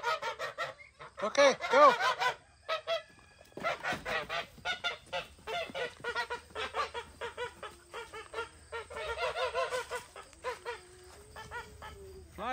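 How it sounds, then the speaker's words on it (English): Geese on a farm honk loudly in repeated bursts close by during morning chores, with turkeys around and a person speaking briefly over the calls. "Fly, geese. Try to fly."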